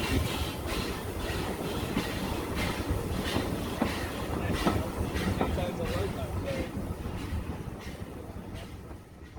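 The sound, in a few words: Adams O2 steam locomotive Calbourne train running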